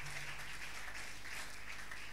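A church congregation applauds during worship, a steady, dense wash of clapping that holds evenly throughout without any break.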